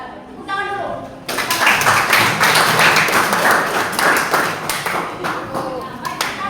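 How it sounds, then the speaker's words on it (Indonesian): A group claps in a dense burst of applause lasting several seconds, with a voice speaking before and after. "silakan tepuk tangan dulu"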